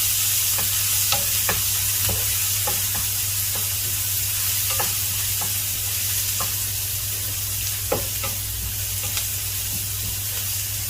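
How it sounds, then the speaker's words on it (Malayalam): Onions and green chillies stirred in a hot pan for Kerala-style pappadam thoran, a steady sizzle of frying with repeated scraping strokes of the spoon, close and continuous, with a low hum running underneath. "എല്ലാം കൂടി ഇളക്കി യോജിപ്പിച്ച് കൊടുക്കുകയാണ്."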